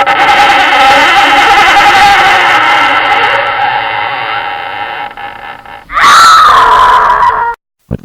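A loud, sustained scream in an emergency alert scenario holds for about five seconds, then a second sharp, rising cry cuts off abruptly near the end, close and harsh, with no talking.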